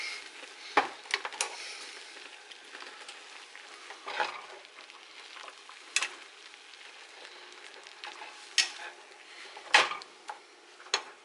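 Pork ribs seasoned with salt and black pepper are flipped in a pan, giving scattered close clunks and taps over a faint, steady sizzle.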